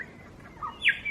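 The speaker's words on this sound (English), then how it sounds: "I wonder what that bird is." A bird calls by a creek in Tasmania, a single short bright call near the end over a quiet, calm background.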